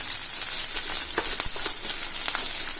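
Onions sizzle and fry in a pan of oil while besan kadhi is being made. The crackling is steady and close, with occasional sharper pops and a faint stirring sound. No one speaks.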